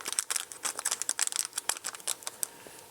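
A plastic bag holding electronic synthesizer module parts is opened and handled, giving quick, close, rapid crinkling and rustling with sharp irregular bursts, fairly quiet, without voices.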